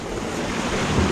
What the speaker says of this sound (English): oh, big wave